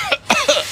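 A person coughs in two or three harsh, close bursts within under a second, in a polluted street setting in Bangkok's Chinatown.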